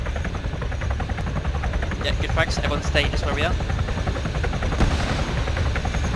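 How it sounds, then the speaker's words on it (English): A helicopter in a military video game thumps continuously with steady rotor chop under constant engine rumble, while players talk over it on voice chat. "There's the helicopter."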